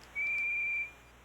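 In the Mega Drive game NHL '94, a referee's whistle gives one clean, steady tone lasting under a second against a faint, quiet background.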